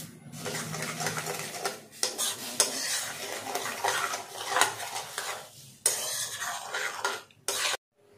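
Sugar is stirred into milk in a pan for a sweet bread malai roll, giving a continuous close scraping and swishing broken by short pauses.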